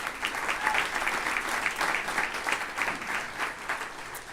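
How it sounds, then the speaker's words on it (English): Steady, even audience clapping at a downtown civic presentation, a full round of applause sustained throughout with no break and a faint voice underneath. "Let's give them a round of applause."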